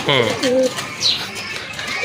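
Pigeons at a Bangladeshi pigeon seller's stall give a few soft, close coos in short bursts, alongside someone talking.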